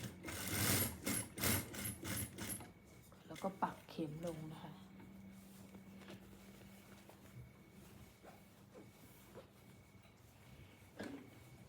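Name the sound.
sewing machine stitching a suit jacket seam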